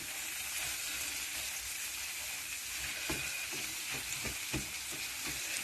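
Green beans and mushrooms fry in a pan with a steady, close sizzle. A few soft stirring scrapes cut through midway, and no one speaks.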